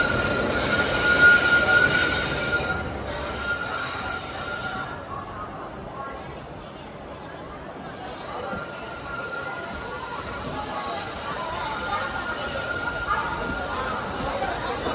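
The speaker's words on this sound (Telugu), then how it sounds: "మన ట్రైన్ అయితే వచ్చేసింది." An express train hauled by a WAP-4 electric locomotive arrives at a station on the Karaikal–Tambaram route. Wheels rumble and screech steadily, and a crowd murmurs in the background throughout.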